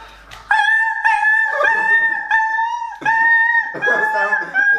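A person imitates a frightened dog with a string of high, trembling whimpers and whines, loud and close, with short breaks between them.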